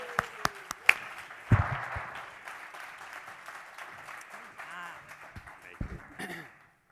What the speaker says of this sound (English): let's give Adam Bornstein a round of applause.